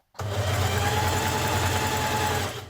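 A sewing machine stitches a seam on a Burda 6055 smock dress, running in one steady, close whirring burst that starts abruptly and winds down near the end, with no voices.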